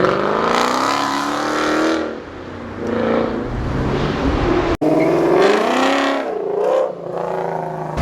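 A loud Cobra sports car on a city street revs and accelerates hard nearby, its engine note rising and falling through gear changes, with a sharp break partway before it roars on again.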